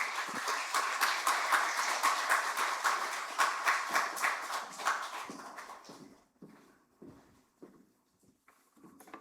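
A church congregation applauds to welcome the pastor at a Sunday worship service. Dense clapping holds for about five seconds, then thins into a few scattered, fading claps before the room falls quiet.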